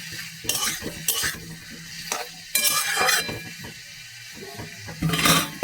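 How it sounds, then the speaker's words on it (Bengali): Mushrooms fry in butter in a pan, with bursts of loud sizzling and scraping as a spoon stirs them. The stirring comes in several uneven strokes, with a quieter crackle between them. "মাশরুমটা একটু ভাজা ভাজা হবে"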